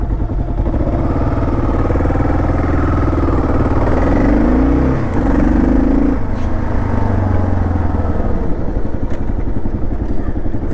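A 2012 Kawasaki KLR 650 dual-sport motorcycle, a 650cc single that has been lowered, riding on a test ride, its engine droning loudly and steadily with a brief dip and rise in revs midway, heard from close on the bike.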